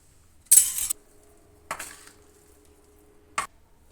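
Carrot, cauliflower and turnip pickle being mixed with oil in a metal vessel, giving three separate clinking scrapes of utensil against the container, close and distinct with quiet gaps between, and no talking.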